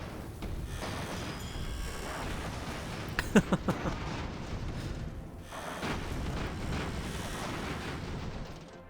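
An airship cannon volley in Airships: Conquer the Skies, a short cluster of four or five sharp thumping blasts over a continuous rumbling battle background, with no talking.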